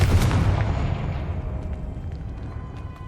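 A Confringo fire spell blast from Hogwarts Legacy bursts loudly at the start with a deep boom, then rumbles and crackles as it slowly fades over a few seconds, with no talk.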